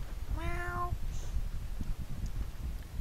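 A person imitates a cat with a single short, rising-then-falling meow, heard clearly over steady background noise during a game session.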